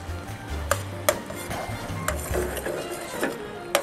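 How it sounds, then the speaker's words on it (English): Garlic fries in hot oil for pork adobo flakes, a low sizzle broken by several sharp clinks and scrapes of a utensil against the pan, close and fairly loud with no talking. "Cook the garlic a little more."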